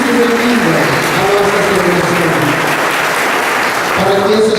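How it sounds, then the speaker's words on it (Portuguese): A church congregation claps in sustained, dense applause at a Mass celebration, steady and loud throughout, with a voice faintly audible beneath. "Vamos dar uma salva de palmas por esta aclamação"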